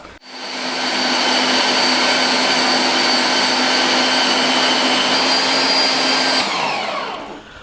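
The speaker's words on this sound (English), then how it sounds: "I've now got the fine plate on the mincer, and I'm going to pop this through again" A meat mincer fitted with a fine plate grinds bratwurst meat, a loud, steady motor whine running continuously for several seconds before cutting off near the end.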